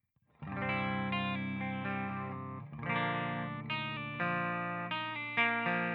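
An electric guitar through a NUX MG-30 modeler's JC120 clean amp model plays sustained chords with a shimmering chorus effect, strummed in a few changes, no talking.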